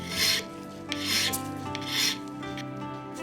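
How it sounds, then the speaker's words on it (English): A small clock part for a Dutch Zaandam clock, held in a hand-turned pin vise, is filed in three slow, close rasping strokes that swell and fade with light pressure. "Roll the file across. Turn the pin vise between your finger and thumb."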